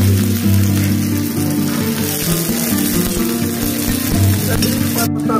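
Vegetables such as capsicum, tomato, onion, cabbage, carrot and peas frying with cumin in a pan in a hotel kitchen, a loud continuous sizzle with stirring scrapes, no speech.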